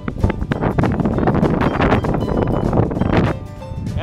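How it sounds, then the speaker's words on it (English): Strong wind on a sandy beach roars and buffets the microphone in continuous loud gusts, easing slightly near the end. "It's so windy here"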